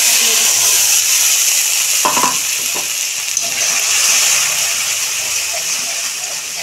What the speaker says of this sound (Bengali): মশলাটা আমি একটু কষে নেব।